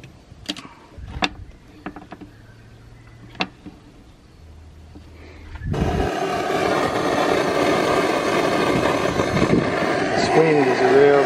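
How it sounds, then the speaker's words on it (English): Wind buffets an outdoor microphone, starting with scattered clicks and light handling noise before a sudden, sustained roar of broadband rumble takes over for the second half. "Wind is a real bloody problem."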